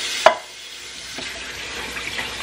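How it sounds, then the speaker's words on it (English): Canned green beans are rinsed under running water in a sink, a sharp clatter first, then a steady soft hiss of flowing water with light splashes, close and alone. "I'm gonna rinse my second can of green beans."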